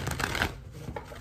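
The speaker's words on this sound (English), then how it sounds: "Let me do five shuffles" A quick riffle of tarot cards being shuffled, close and soft, lasting about a second.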